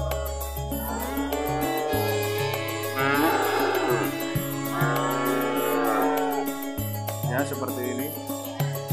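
Several cows moo loudly and repeatedly close by, long low bellows overlapping, while people talk in the background of a busy cattle market in Plaosan, Magetan, East Java, at the foot of Mount Lawu.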